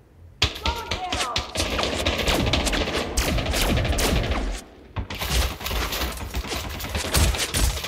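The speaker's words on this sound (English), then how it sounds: "Who's shooting at me?" Dense rapid automatic gunfire in the Elite Dangerous Odyssey on-foot video game, loud and continuous bursts with a brief pause, then more shooting and thuds.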